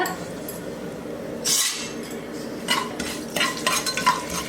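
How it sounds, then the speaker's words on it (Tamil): Mustard seeds and asafoetida crackle and sizzle in hot oil as they are tempered for chicken gravy, while a utensil stirs and scrapes against the pan, with a few sharper clinks. "பெருங்காயம் போட்டு தாளிக்கிறேன்"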